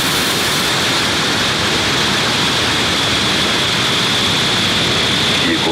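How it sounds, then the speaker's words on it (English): SpaceX Falcon 9 rocket engines roaring at liftoff from SLC-40 at Cape Canaveral on a Starlink launch, a loud, steady, broadband rumble that continues unbroken throughout with no voices audible. "Ignition. Engines full power. And liftoff of Starlink 6X-10."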